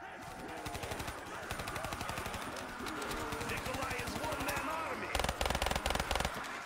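Death Machine minigun in Black Ops 3 Zombies firing a long continuous rapid stream of shots, getting louder and punchier near the end, under game noise and quiet talk.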